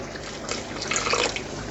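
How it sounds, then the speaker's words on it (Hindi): A small splash of water poured into a blender jug, a short rushing, splashing trickle that swells over about a second in a home kitchen, heard on its own without talk. "और इसमें थोड़ा सा पानी डाल के"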